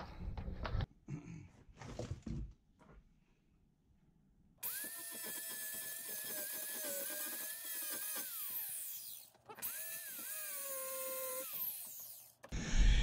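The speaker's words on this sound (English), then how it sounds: "I need a grind right up in there. I got my cutting wheel." A cutting wheel grinds a metal part clamped in a vise. After some quiet handling noises, a high whining tool tone runs for several seconds, dips and rises in pitch as it bites, stops briefly, then starts again.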